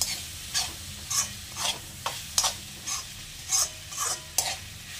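A leftover rice dish with tomatoes sautéing in a pan: a steady low sizzle with about a dozen rhythmic spatula scrapes and stirs, close and clear, no voices.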